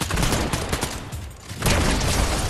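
Loud, dense bursts of rapid gunfire from the battle royale video game Fortnite, fired in quick volleys that dip briefly before another sustained barrage takes over.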